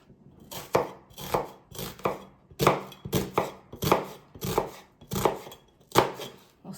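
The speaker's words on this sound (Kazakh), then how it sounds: "Картоғымызды да, пиязымызды да осындай қылып уақ етіп турап аламыз." A knife finely chopping potatoes and onions on a board, about a dozen crisp, evenly spaced chops in a steady rhythm, close and distinct with no talking.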